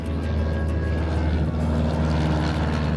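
Steady, droning engine and propeller hum from a small airplane in flight, a constant loud low rumble throughout with no talking.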